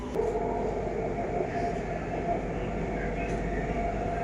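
Rumbling metro train inside a station, a steady low mechanical roar with faint squeals and distant clanks.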